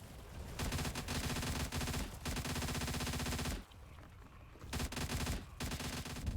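Machine gun fire in the Stalcraft video game: long, loud sustained automatic bursts with two brief pauses between them, heard alone without talk.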